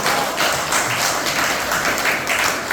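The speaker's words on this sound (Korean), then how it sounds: "박수를 한번 해주시면 고맙겠습니다" An audience at a university lecture by the president of Chongshin University claps together in a loud, continuous round of applause with no voices over it.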